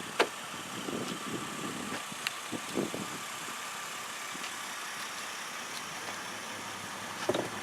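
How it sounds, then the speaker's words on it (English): A 2012 BMW X3 xDrive28i idles quietly with a low, smooth, steady hum and a few faint clicks and taps. "Now, this car is already running and it sounds great. It sounds quiet."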